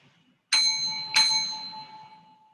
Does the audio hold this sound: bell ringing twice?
yes